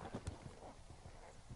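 A horse cantering during a show-jumping lesson, its hoofbeats thudding in a quick rhythm at a moderate distance amid outdoor wind noise.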